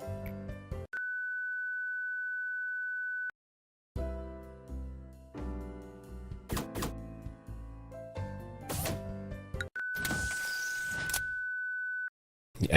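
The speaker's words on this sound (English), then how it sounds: "Please, for the love of all things good, stop beeping." The video game Lobotomy Corporation sounds a long, steady electronic beep tone, then a busy stretch of clanks and clicks, a burst of static and a second long beep.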